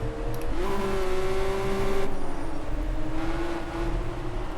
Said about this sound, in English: But I do like the way this car sounds. It's got a nice engine note to it.